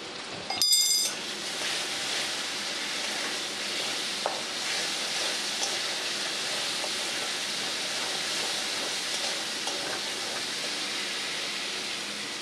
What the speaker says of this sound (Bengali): এবার এটাকে একটু কষিয়ে নেব।